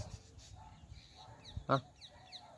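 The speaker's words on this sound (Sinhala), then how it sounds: "ඒ වඩ කුරුල්ලෝ කෑ ගහනවා" Birds calling by a lake in Nuwara Eliya, with goose-like honks and squawks scattered near and far, one loud call standing out among fainter cries.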